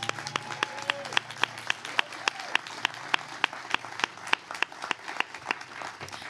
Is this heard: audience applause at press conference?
yes